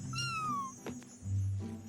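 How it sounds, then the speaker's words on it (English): A cat in the video game Spiritfarer gives a clear, close meow that slides downward, followed by a couple of softer, shorter cat sounds. "Did I step on a cat?"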